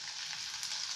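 Ginger, garlic and green chili sizzle steadily in hot oil in a pan, a close, even hiss that runs without a break and with no voices.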